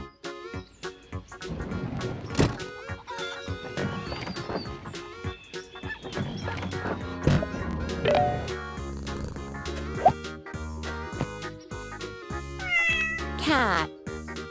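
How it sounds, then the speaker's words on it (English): A cat meows clearly several times over upbeat children's music, alongside horse neighs and clip-clopping hooves in the mix. "Cat."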